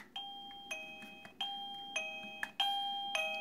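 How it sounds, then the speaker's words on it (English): A wireless attendant call button alert chime rings six times in a steady repeating pattern, each ding bright and clear with a short ringing decay, loud and close with no talking. "I'll go ahead and push this, and you'll hear that it will start to do the chime"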